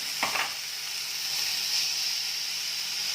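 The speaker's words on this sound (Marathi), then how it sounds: "कढई गरम झाली की जी मटकीची मोडं आपण धुवून घेतलेली आहे ती घालायची" Washed sprouted moth beans hit a hot kadhai and set off a sharp burst of sizzling. It settles into a steady frying hiss that runs to the end, with no voices.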